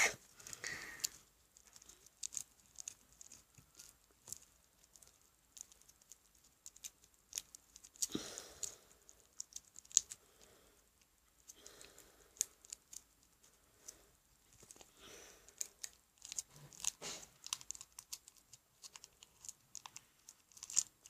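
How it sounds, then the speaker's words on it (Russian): Kinder Surprise chocolate egg foil being unwrapped and cracked open close up, faint crinkling and tearing with scattered crunchy snaps and rustles. "Киндер-сюрприз. Так, открываем."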